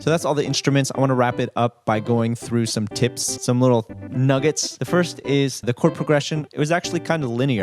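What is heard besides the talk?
No everyday noises stand out.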